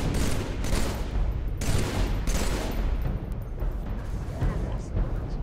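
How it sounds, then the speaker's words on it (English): Dense, continuous gunfire from a firefight against enemies in Halo 3, with loud overlapping bursts and some heavy booms, and a voice talking over the shooting. "so you can just keep shooting at them"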